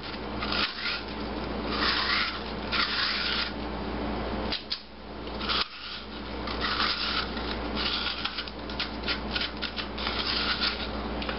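A utensil scrapes the inside of an onion to thin its walls for a baked stuffed onion, giving a continuous close-up rasping and rubbing with brief pauses between strokes and no talking.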